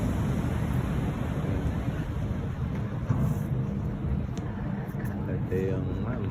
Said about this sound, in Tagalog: Grabe ang lakas ng alon